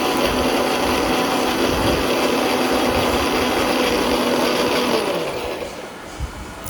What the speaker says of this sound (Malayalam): നമുക്കിത് മിക്സിയിലിട്ടിട്ട് നന്നായിട്ട് ഗ്രേറ്റ് ചെയ്തെടുക്കാം